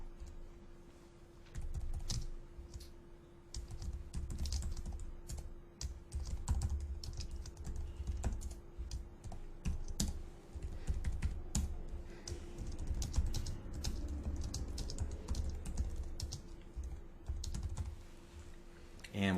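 Computer keyboard typing as a name is entered into a web application form; a quick run of close, light key clicks with a short pause, over faint room noise.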